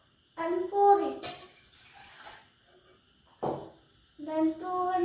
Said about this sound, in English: Take 500 ml water and pour it.